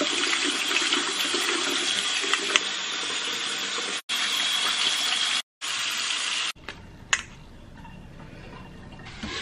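Tap water gushes steadily while food is washed for a beef soup, a loud broad rush with brief interruptions as the flow is cut, then quieter splashing and clinks near the end.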